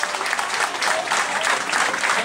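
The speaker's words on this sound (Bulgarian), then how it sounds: "Още веднъж нека да чуя вашите аплодисменти за Емилян Емануилов" An audience at a stage contest between two competitors applauds them, a thick, continuous roar of clapping from many hands that stays loud and even throughout the short stretch.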